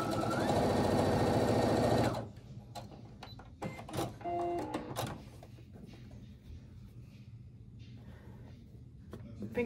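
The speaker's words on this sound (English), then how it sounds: "Square up the top, sew them together." A sewing machine stitching quilt rows for a disappearing hourglass quilt runs in a steady, loud whirring burst for about two seconds, then stops, leaving quieter handling sounds, taps and fabric rustling nearby.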